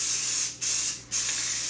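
A spray gun applies a coating to a sun pad being restored, giving loud, close, steady hissing bursts broken by two brief pauses.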